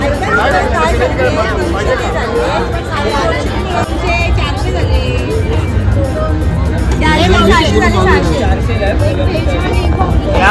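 Busy crowd chatter around a food stall at the Aagri Koli festival in Dombivali, a steady babble of many voices close and far with faint traffic underneath.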